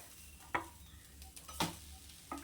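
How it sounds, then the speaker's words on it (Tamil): Sliced onions sauté in a pan for egg dosa: a soft, quiet sizzle broken by a few sharp spatula scrapes and clicks against the pan. "கொஞ்ச நேரம் லைட்டாக வெங்காயம் வதங்கட்டும்"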